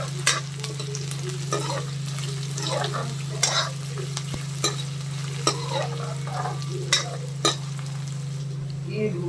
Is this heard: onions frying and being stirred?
yes